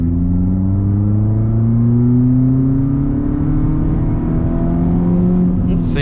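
Renault Sandero RS launch test: the engine revs up strongly from a standstill, a loud close-up rising drone that climbs steadily in pitch as the car accelerates through the gear.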